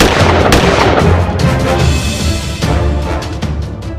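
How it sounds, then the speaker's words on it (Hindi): Gunfire breaks out during festival celebrations in Mehmedpur village, heard as a loud, dense run of sharp bangs and booms over a continuous roaring wash, with irregular bursts throughout and no voices. "लेकिन इसी बीच अचानक सुनाई दी गोलियों की तड़तड़ाहट"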